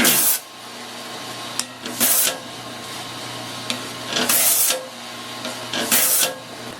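A sand flea drum sander smoothing and thinning a wooden pumpkin rocker, giving a loud broadband whirring grind in several bursts over a steady motor hum, with quieter gaps between passes.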